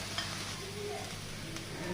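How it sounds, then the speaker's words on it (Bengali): Ground spices (salt, chilli, turmeric, coriander and cumin powders) frying and being stirred in a pan for chicken curry with papaya, giving a steady close sizzle with scraping strokes and no talk. "মশলাটা ভালো করে ভেজে নেব।"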